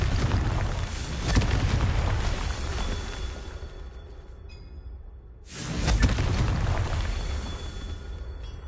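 A Confringo fire spell explodes in Hogwarts Legacy, a loud rumbling blast that fades and then swells again into a second roaring burst.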